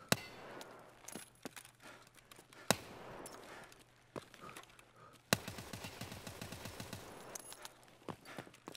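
Gunfire in Escape from Tarkov, scattered sharp shots and clanks followed by a rapid automatic burst, fairly faint with quiet gaps between the early single shots.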